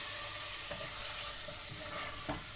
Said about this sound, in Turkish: Ve bunları bir güzel kavuralım.